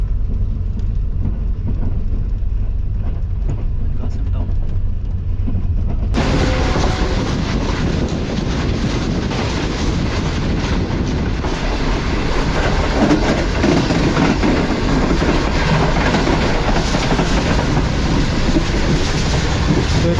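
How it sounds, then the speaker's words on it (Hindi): The Tezgam express (7 Up) runs at speed, near 110, past Bin Qasim railway station, a loud, continuous roar of wheels and rumble that grows harsher and brighter partway through. "तो कुछ इस तरह की स्पीड में ट्रेन हमारी स्किप कर रही है बिन कासिम रेलवे स्टेशन को।"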